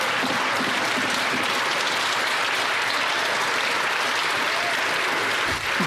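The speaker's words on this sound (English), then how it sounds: "Look at all the seals clapping." Sustained applause fills a legislative chamber, the Canadian House of Commons, as members clap steadily and densely for about six seconds, loud and unbroken.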